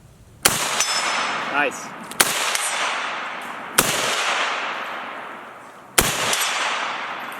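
Four loud gunshots ring out on a farm, spaced a second or two apart, each a sharp crack trailing into a long echoing decay, with a brief voice heard between shots.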